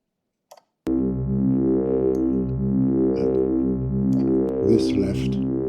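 Voltage Modular partial oscillator synthesizer patch running through a filter and reverb: a sustained, harmonically rich drone enters abruptly after a brief click and holds steady at a loud level, with shifting resonant tones and a swell of noisy texture near the end.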